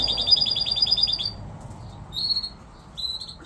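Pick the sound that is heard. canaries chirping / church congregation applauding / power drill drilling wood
canaries chirping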